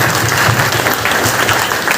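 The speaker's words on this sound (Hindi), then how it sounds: "उनके नाम पे जोरदार ताली जुड़ने का।" Audience at a meeting claps steadily in a dense burst of applause, close and continuous, with no voices heard.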